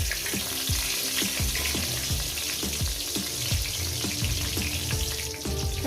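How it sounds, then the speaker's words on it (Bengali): Cut pieces of eggplant fry in hot oil in a pan, making a steady, close sizzle with scattered crackles and stirring scrapes throughout. "দিয়ে দিলাম বেগুনগুলো আমি ভেজে নেব এক এক করে"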